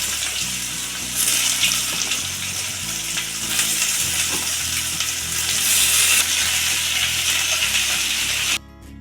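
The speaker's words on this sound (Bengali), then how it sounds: "শসাটা আমার হালকা ভাজা হয়ে গেছে।" Cucumber pieces fry in hot oil that has been tempered with radhuni and bay leaves, making a loud, continuous sizzle with stirring scrapes and bubbling. The sound is close and steady and cuts off abruptly near the end.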